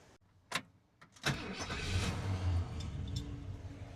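A 1978 Ford F150 Supercab truck engine, recently fitted with a riding-mower fuel pump, cranks with a few sharp starter bursts, then catches and settles into a steady running rumble nearby.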